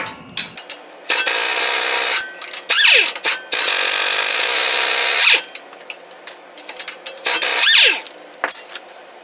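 A power tool drives a 24 mm socket on engine bolts of a GMC Acadia, sounding as loud, sustained whirring bursts separated by pauses, with ratcheting and metallic clicks in between.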